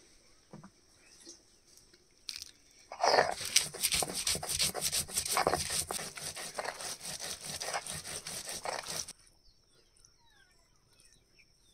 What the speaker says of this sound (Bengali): ভাজা মশলাগুলো এবার জল দিয়ে বেটে নেব।